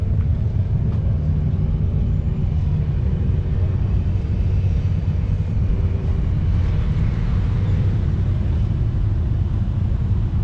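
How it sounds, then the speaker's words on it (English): A John Deere 435 diesel tractor fitted with a GM engine runs at an outdoor antique tractor show, giving a steady low rumble that holds for the full stretch with no talk over it. "Here's the 435 diesel that's got the GM in it."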